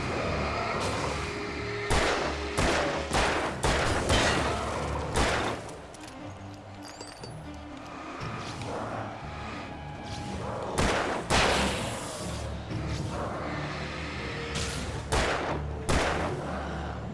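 Gunfire in the Alan Wake video game: a run of loud, sharp shots in several bursts, some spaced and some clustered, over a dense rumbling game backdrop.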